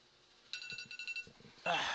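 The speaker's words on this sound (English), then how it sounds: "let me get rid of this alarm" An alarm clock beeps in a rapid repeating pattern of bright electronic tones over background talk, heard during a voice chat, before a louder burst of noise at the end.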